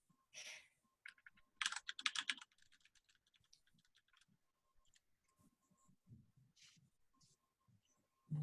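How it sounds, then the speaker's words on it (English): Bursts of computer keyboard typing, close and fairly quiet, arriving in short uneven clusters of clicks separated by pauses, with no voices present. "I'm typing to him right now."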